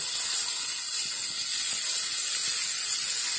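Tomato and prawn gravy cooks in a pan, with a constant bright steam-like hiss and low bubbling sizzle heard up close, steady and unbroken, with no talking.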